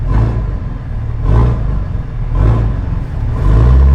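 A Cummins diesel pickup truck engine revs repeatedly, loud and close, a deep rumbling idle swelling into about four rhythmic throttle blips.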